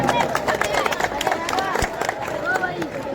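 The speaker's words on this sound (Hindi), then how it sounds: "जोरदार तालियां जी" Loud crowd applause at an outdoor Ram Leela festival stage in Amargarh, Punjab, dense clapping mixed with crowd murmur and a few voices, one heavy thump partway through.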